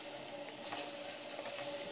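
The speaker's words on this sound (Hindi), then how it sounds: "उसके बाद अब हम इसके अंदर चिकन डाल देंगे जैसे ही ऑयल गर्म होगा।" Chicken pieces dropped into hot oil for a white handi sizzle steadily with a bright, even frying hiss that swells slightly midway, close and continuous, with no talking.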